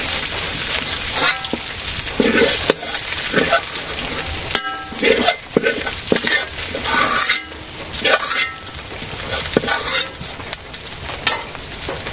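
Onions frying in a pan in a village kitchen, with loud, uneven sizzling and stirring scrapes that swell and ebb across the clip, punctuated by a few sharp clanks.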